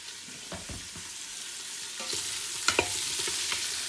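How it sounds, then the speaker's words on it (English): Onions fry in a pan for habanero salsa, a steady close sizzle punctuated by several scraping stirs, growing a little louder partway through with no talking. "You're not really looking to brown them, just kind of looking for them to get a little soft enough that they're kind of falling apart."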